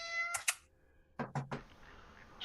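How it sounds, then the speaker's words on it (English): A domestic cat meows indoors, a few short separate calls at moderate volume against a quiet room, with a brief higher sound near the start. "I can hear a bloody cat somewhere."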